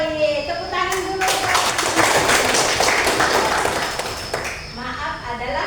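Students in a religious education classroom clap their hands together in a short burst lasting a few seconds, close and lively, with a teacher talking just before and after.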